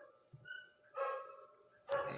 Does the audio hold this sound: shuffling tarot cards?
no